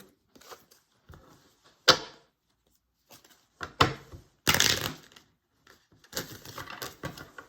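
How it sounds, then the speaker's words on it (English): Tarot cards being shuffled, heard as scattered soft riffles and flicks in short bursts with quiet gaps, close and fairly faint, with no talking. "Gonna do a little shuffle."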